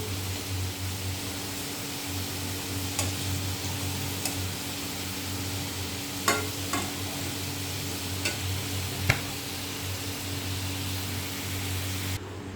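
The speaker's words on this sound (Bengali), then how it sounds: "আলুটা ভাজা হতে থাকে।" Potatoes frying in oil in a home kitchen make a soft, constant sizzle, broken by several sharp utensil clicks and taps against the pan, with a low steady hum underneath.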